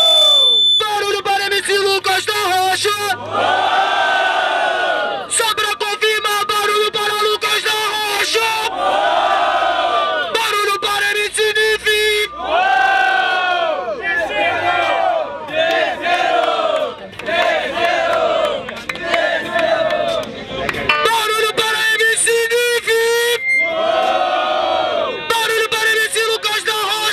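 A crowd cheers, whoops and shouts loudly and continuously at a freestyle rap battle in São Gonçalo, Brazil, the roar swelling in repeated bursts with a host's voice calling out over it.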